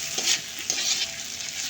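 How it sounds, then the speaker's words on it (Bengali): Salted dried fish fries in a pan on a stove, hissing steadily with a few scraping stirs. The sizzle is close and moderately loud, with no voices. "আর একটু ভাজা হইলে আমি নামামো চুলা থেকে"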